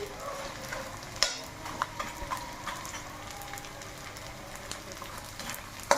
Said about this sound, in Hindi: घी को पहले हम अच्छे से गर्म कर लेंगे, फिर इसको स्लो फ्लेम पर ही हम अच्छे से भूनेंगे।